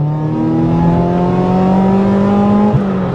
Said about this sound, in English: I'm just going to get to the national speed limit here, staying in second gear, and then just open it up